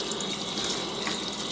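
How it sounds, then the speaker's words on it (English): Tap water runs steadily into a sink for washing freshly harvested herbs, a close, even splashing stream with no pauses or voices. "Now that I have my herbs harvested, I just want to give them a good wash."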